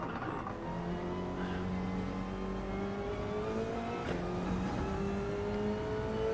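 A Gr.3 race car engine in a racing video game drones and revs with steady tones that rise and shift through gear changes, loud and continuous with no talk over it.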